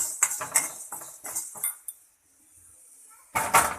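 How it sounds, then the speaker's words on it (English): Spoon and pan clinking as golden-brown fried tempering for Karnataka temple-style puliyogare is scraped into a separate bowl; several sharp metallic clinks and scrapes in the first two seconds, a quiet pause, then a louder burst of clatter, close up with no talk. "I have transferred it to a separate bowl."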